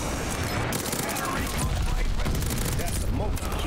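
Sten submachine gun in Call of Duty Vanguard, firing a sustained rapid burst, loud and close, with more gunfire crackling around it.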